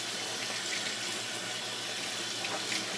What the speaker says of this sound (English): I'm just going to rinse the salt off and put it in my pot of water.